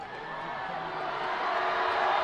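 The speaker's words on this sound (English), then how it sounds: "Crowd getting loud for a chance at a free t-shirt" Steady arena crowd noise builds gradually at a women's basketball game, a broad rising roar of many voices in a large indoor venue during a free throw.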